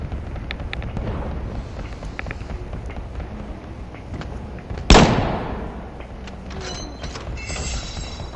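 A single sharp sniper rifle shot rings out in the Battlefield video game, a loud crack with a decaying tail, set against steady low ambient game noise.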